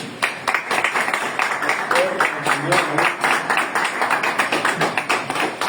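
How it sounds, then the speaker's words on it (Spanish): Church congregation clapping during a service, a steady run of distinct, fairly close handclaps with some murmuring voices underneath. "¿Puedes dar un aplauso más?"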